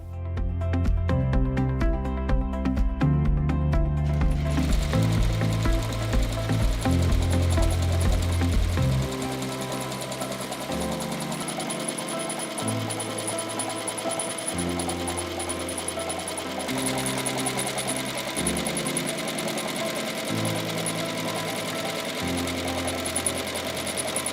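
A ZSK embroidery machine stitches a slipper design held in a pocket frame, giving a loud, fast rhythmic chattering that shifts pitch and tempo in stages over about 24 seconds, with no talk.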